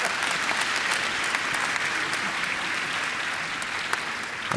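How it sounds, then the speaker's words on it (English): An audience at an interfaith prayer breakfast in Pasadena claps steadily for several seconds, a dense, even wash of applause from a large crowd. "may the record show they all clapped"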